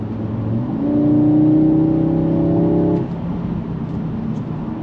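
A 2022 Audi S3 engine on a Colorado mountain road holds a gear under engine braking, a steady droning hum that rises into a sustained tonal whine for a couple of seconds before easing back to road noise.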